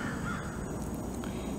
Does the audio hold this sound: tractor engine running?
no